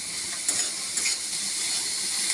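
Goat brain and onion sautéing in a pan, a steady close hiss and sizzle with a few faint clicks of a utensil.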